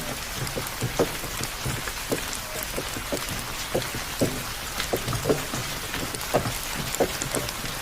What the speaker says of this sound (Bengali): প্রায় 1 ঘন্টা ধরে বৃষ্টি হচ্ছে, বৃষ্টি থামার কোনো লক্ষণই দেখছি না